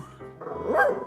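A dog gives a single short bark, close and fairly loud, rising briefly and then fading out.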